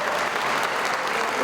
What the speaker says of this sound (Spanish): se llevaron más de un minuto de aplausos